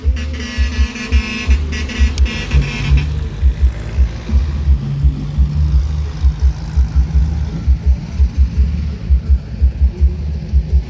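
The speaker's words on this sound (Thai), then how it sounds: "รถไถอ่ะ" A tractor engine chugs with a steady, rhythmic low throb, close by, running continuously throughout.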